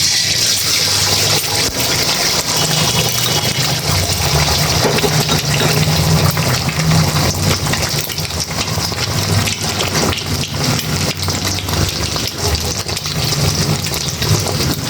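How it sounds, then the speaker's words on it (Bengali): Liquid pours steadily into a pan on the stove while cooking a Chinese-style chicken and vegetable dish, a continuous loud rushing, splashing wash that lasts throughout with no talking. "ওকে, এখন ঢেলে দাও।"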